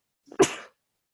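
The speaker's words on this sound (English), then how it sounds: "and I'm just going to sneeze." A single sharp sneeze, close and loud, preceded by a quick catching breath, then silence.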